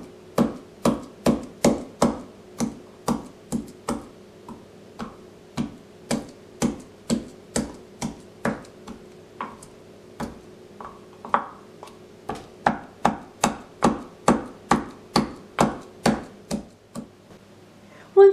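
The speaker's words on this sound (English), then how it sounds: "In a mortar, crush 6 garlic cloves using a pestle." Garlic cloves, six of them, pounded in a mortar with a pestle: a steady series of sharp, close knocks at a regular rhythm, with short pauses between runs of strikes and no talking.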